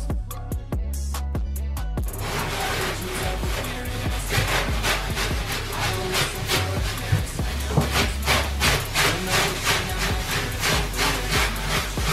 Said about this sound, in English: So let's scrub the mixtures away.